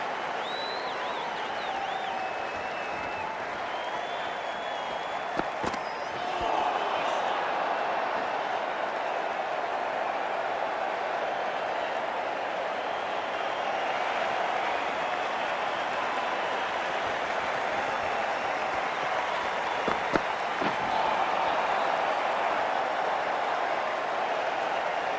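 A broad, sustained roar from a large cricket stadium crowd at a South Africa versus Australia Test match, rising and holding steadily throughout with a few brief sharp claps or knocks, heard from a distance and without clear talk.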